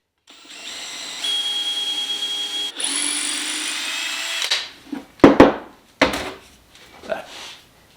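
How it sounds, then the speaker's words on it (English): A power drill whines at a steady pitch, rising as the bit bores through wood, then stops, followed by a few knocks and clattering handling sounds. "So let's drill into there."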